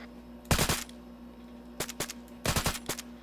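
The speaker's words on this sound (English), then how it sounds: "Hold on, I heard gunfire." Bursts of gunfire at a milsim event crack out in three clusters of rapid shots, loud and sharp against a quiet background hum.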